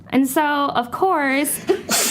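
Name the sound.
sneeze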